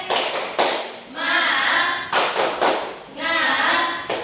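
Children in an Indonesian classroom clap the rhythmic 'tepuk semangat' cheer, sharp group claps in patterned bursts alternating with shouted chant-like voices, loud and close.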